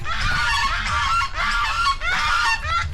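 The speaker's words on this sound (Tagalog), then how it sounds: "Ito yung gansa." Loud, repeated goose honking, several harsh nasal calls overlapping close by in a continuous noisy chorus.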